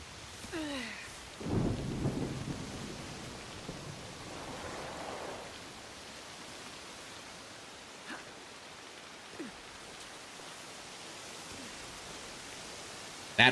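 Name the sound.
thunderstorm in the video game Assassin's Creed Shadows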